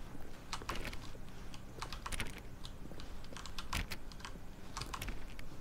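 Computer keyboard typing inside the video game The Stanley Parable: a quiet, uneven run of close key clicks with short pauses, alone without talk.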